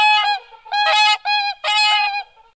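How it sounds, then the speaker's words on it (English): Loud, nasal honking calls of a swan, three or four drawn-out bugling notes in a row, close by and alone. "A swan."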